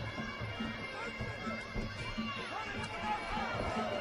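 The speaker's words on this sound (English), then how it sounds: "And the chant for Buakau." A fight crowd at a Buakau versus Warren Stevelmans kickboxing bout chants steadily for Buakau, a dense rhythmic roar of many voices filling the arena under a commentator's voice.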